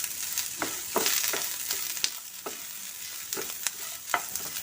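Grated coconut frying in a pan for small onion sambar is stirred steadily, a soft continuous sizzle broken by a regular series of scraping spoon strokes, close up and without talk.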